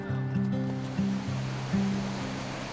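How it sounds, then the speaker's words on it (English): Steady rushing water at the Ain Khor waterfall west of Salalah, Oman, a broad continuous wash with a slow, stepping melodic music line playing over it. "the water that will soon dry up for many months is still gushing."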